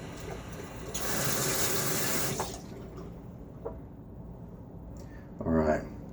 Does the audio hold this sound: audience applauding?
no